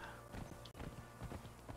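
Horse hooves clip-clop at a steady walking rhythm in the video game Conan Exiles, close and fairly loud over a dense background of game ambience and music, with one brief dropout partway through.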